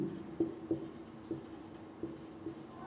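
Chalk or marker strokes on a classroom board during a physics lesson on concave mirrors, a series of soft rhythmic taps and scrapes, close and alone.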